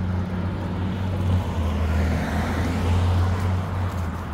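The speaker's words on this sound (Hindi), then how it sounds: "मतलब गाड़ी चल रही है अंदर कोई भी नहीं है" A police car runs with nobody inside, giving a steady low engine hum with a constant drone and road noise, close and even throughout with no talking.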